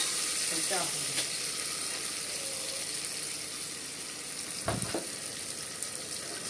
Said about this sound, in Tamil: எல்லாம் போட்டு நல்லா வதக்கணும்